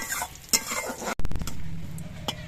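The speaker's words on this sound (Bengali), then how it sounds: "এবার জিরেটা শুকনো লঙ্কাটা একটুখানি সময় ভেজে নিতে হবে" Whole cumin seeds and broken dried red chillies fry in hot oil for a mustard-oil fish curry, giving a soft sizzle with sharp stirring scrapes and a metallic clink of utensil against pan, followed by a brief pause.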